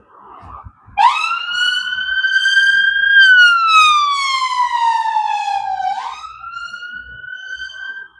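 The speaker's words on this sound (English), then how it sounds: "I always hate it when I hear an ambulance going by" An ambulance siren passes in a Glasgow street near Queen's Park, a loud, close two-tone wail that rises, holds and slowly falls before jumping up again, fading slightly at the end.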